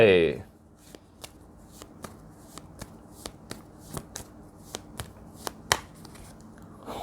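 Tarot cards are shuffled by hand, a soft riffle at the start followed by a series of sharp, evenly spaced card taps and flicks, close and crisp against a quiet room.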